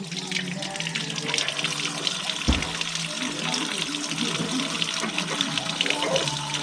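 Water gushes steadily from a tap in Gandara, Samar, a constant close rushing stream with people talking over it.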